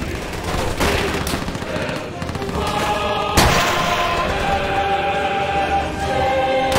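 Machine gun fire rattles through a battle in Call of Duty: World at War, with rapid continuous bursts, a sharp loud crack near the middle, and steady gunfire layered over booming background combat.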